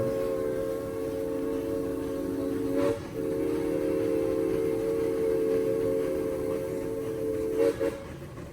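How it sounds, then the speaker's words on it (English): A steady, piercing steam whistle from a Southern Pacific Pacific class locomotive blows close by in long sustained blasts, with a brief break near the start and another near the end. "The whistle is off a Southern Pacific Pacific class locomotive."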